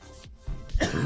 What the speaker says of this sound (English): One more cough.